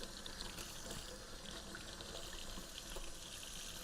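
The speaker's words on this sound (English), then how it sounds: "And once I get those cleaned up, I can rinse them." Water runs steadily from a tap while Emmrod fishing rod handles are rinsed beneath it: a continuous, even hiss and splash at close range with no voices.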